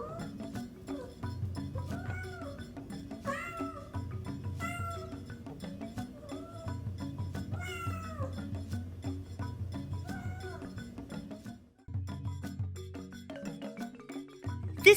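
A curious barn cat named Coco meows repeatedly in short, varied calls, some rising and falling, close and fairly loud over a soft low background hum, with brief pauses between cries.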